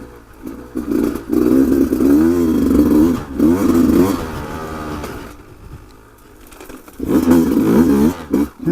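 A Beta 200RR dirt bike climbs uphill in second gear, its engine loud and close, rising and falling through revs with a brief easing near the middle before pulling hard again.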